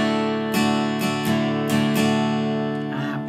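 An acoustic guitar chord is strummed with a thin pick, about five or six crisp, bright strokes in an uneven rhythm over ringing strings, close-miked with no voice.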